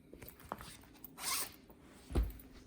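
The metal zipper on a vintage Christian Dior bag made in France is pulled. It gives one short, close rasping zip in the middle, followed by a soft knock or click, in an otherwise quiet room.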